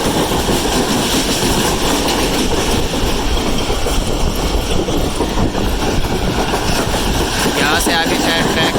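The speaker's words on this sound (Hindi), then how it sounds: "यहाँ से आगे ट्रेन रफ्तार पकड़ेगी" The Rehman Baba Express runs past Shahdadpur on the way from Nawabshah to Karachi, a loud, steady roar of carriages with rhythmic wheel clatter and a brief squeal near the end, heard from on board.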